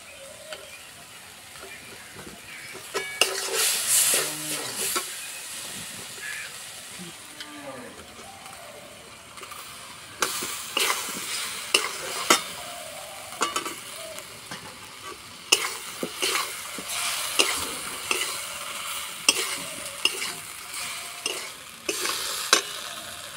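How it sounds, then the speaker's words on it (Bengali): Rice flour balls stirred in a pan with chili sauce and tomato sauce, giving a soft sizzle under repeated scraping stirring strokes that come in uneven bursts, with some background noise and faint voices. "এইভাবে কিছুক্ষণ নাড়াচাড়া করে নামিয়ে দেবো।"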